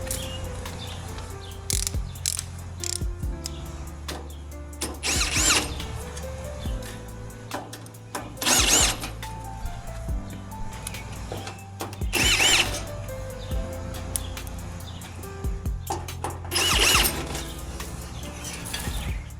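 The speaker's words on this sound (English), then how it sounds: "I'm actually just going to speed up the process and use my Ryobi drill here" A Ryobi power drill whirs in several short, loud bursts separated by pauses while working on an outdoor air conditioner unit, with faint birdsong and chirping in the background.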